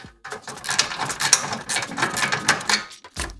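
The foot mechanism of an adjustable wall-hung toilet frame is loosened and raised, giving a close run of quick ratcheting mechanical clicks and rattles.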